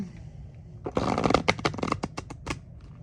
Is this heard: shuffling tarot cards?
yes